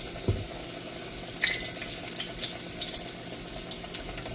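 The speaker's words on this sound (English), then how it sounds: "Our oil is hot back here, so we're just going to take your pepper, dip it, and drop it in your oil" A battered banana pepper dropped into hot oil, setting off a soft sizzle with bursts of crackling and popping that come and go close by.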